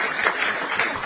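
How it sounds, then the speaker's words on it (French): A live studio audience at a French radio comedy panel show claps loudly, a dense, steady burst of applause that fills the whole moment. "On applaudit bien fort."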